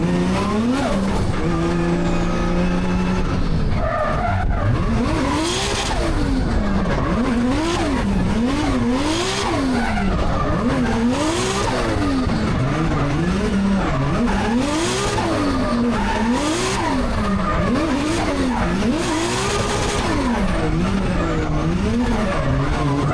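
A Nissan Silvia S15 drift car laps a semi-wet track, its engine revving up and down in repeated surges with tire squeal and skidding, loud and continuous throughout.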